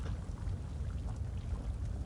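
Steady rain falls in the Elder Scrolls Online video game, a dense low rumbling wash with faint patter, constant and fairly loud, with no speech over it.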